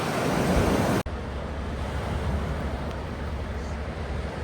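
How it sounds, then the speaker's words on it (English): Ocean waves wash and splash against rocks at Biddeford Pool on the Maine coast on a fairly calm day, a steady broadband surf rush with wind noise. A sharp cut partway through gives way to a quieter, continuous wash. "the water's splashing up on the rocks"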